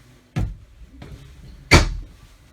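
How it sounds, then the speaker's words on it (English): Two sharp wooden knocks about a second apart with a faint click between, as cabinet doors are opened nearby in a quiet room inside a 2020 Surveyor 252RBLE travel trailer. "I'm going to open up these cabinet doors for you here"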